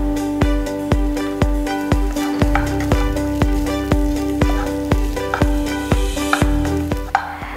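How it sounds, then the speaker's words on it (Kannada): Cooked foxtail millet being stirred into coconut masala in a pan, with a rhythmic series of sharp spatula knocks against the pan roughly every half second over a constant sizzle, close and loud, without speech. "ಇದೀಗ ಬೇಯಿಸಿಟ್ಕೊಂಡಿರುವಂಥ ನವಣೆಯನ್ನು ಈ ಮಿಕ್ಸ್ಗೆ ನಾವು ಹಾಕ್ತಾ ಇದ್ದೀವಿ"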